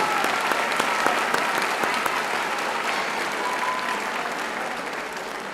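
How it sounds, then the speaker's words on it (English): A school farewell ceremony audience claps for an absent student, a sustained, even roar of many hands filling the hall with sharp individual claps standing out, steady throughout. "could we just give her a hand clap?"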